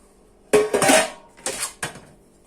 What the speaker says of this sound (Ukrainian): беремо зручну тару і додаємо інгредієнти